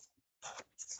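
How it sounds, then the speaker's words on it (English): Scissors snip through a stack of paper sheets held together, two quick crisp cuts close by after a brief faint rustle, with no talking. "So I'm going to cut them all at the same time to save time rather than cut them out"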